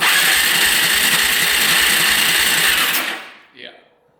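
Quad engine cranking over with the throttle held open, a steady loud mechanical churn for about three seconds before cutting off, with a brief voice after. The engine has low compression and is being turned over on a stronger jumper.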